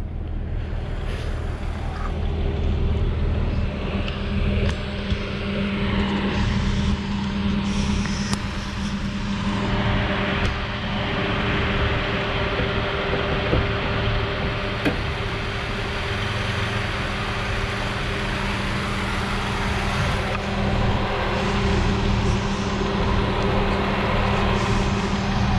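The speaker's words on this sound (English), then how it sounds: "So I'll get outside, let you listen to the motor." A 2004 Jeep Grand Cherokee Laredo 4x4 with a 4-liter six-cylinder engine idles outdoors, its steady low rumble running alone for the whole stretch along with some wind noise and no talk.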